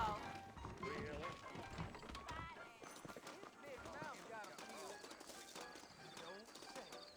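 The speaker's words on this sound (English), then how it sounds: "You ain't gonna find sturdier horses than these in all of New Ulster." Saddled horses in the western video game Red Dead Redemption, hooves clip-clopping in an uneven rhythm beneath a voice, with a whinny-like call partway through.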